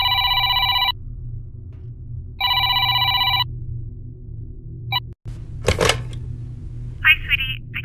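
A telephone rings in two loud electronic bursts, each about a second long with a pause between, followed by clicks and a short noisy rustle.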